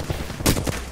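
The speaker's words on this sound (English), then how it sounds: "Stop shooting at me, man!" Gunfire in the Apex Legends video game, a short rattling burst of shots at moderate loudness amid background game noise.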